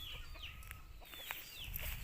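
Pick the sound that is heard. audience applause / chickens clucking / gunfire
chickens clucking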